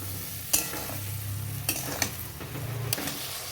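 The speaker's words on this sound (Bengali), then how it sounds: "আবারও নাড়াচাড়া করে নেব" Potato and pointed gourd curry stirred in a pan, with a soft, steady sizzle of frying broken by several sharp scrapes and knocks of the spoon against the pan.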